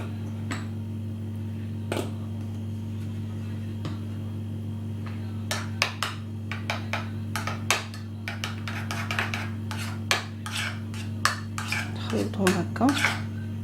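Spoon clinking and scraping against a bowl while mayonnaise and ketchup are stirred together for a chicken shawarma spread, with sparse taps early then a run of quick, close metallic clicks over a steady low hum.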